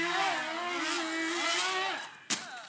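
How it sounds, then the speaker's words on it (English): A channel wing RC plane roars at full throttle for its takeoff run, its steady, loud motor whine shifting in pitch before a sudden sharp thump near the end. "I thought it might be a good idea to go full throttle and get it off the ground"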